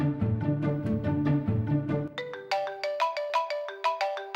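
A phone ringtone ringing, a loud repeating melodic electronic tune that shifts partway to a brighter, sharper chiming pattern of evenly spaced notes, alone with no talk.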